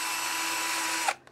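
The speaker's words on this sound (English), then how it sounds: "with your trusty electric drill, using the old holes as a template, I'm just going to mark the holes" Electric drill marking hole positions through an old car number plate, one continuous high-pitched whir held steady before stopping abruptly, close and loud with no talk.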